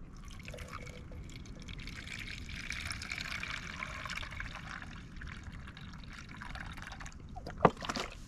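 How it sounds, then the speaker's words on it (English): Water poured out into a measuring container at a trail camp, a steady soft trickle lasting several seconds, close and fairly quiet, with one sharp brief knock near the end. "Measure out my water."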